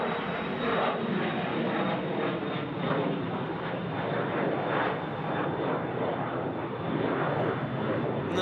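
An Embraer airliner takes off at Sydney Airport, a steady loud roar of jet engines held close and continuous throughout, with no voices over it.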